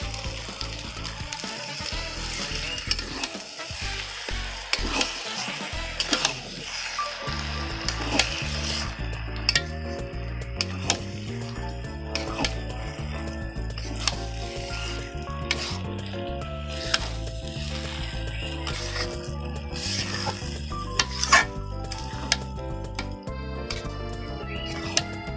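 Boiled mung dal sizzles and fries in a pan while being stirred, with scraping and clattering of a spatula against the pan over a continuous crackling hiss, close and without speech.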